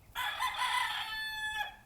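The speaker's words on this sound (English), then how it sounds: "yes, that was a rooster." A rooster crows once in a single clear call that rises, holds and trails off, close by and heard on its own with no talking.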